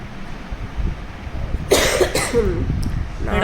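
A person coughs a few times in quick succession, close by, against a low background murmur.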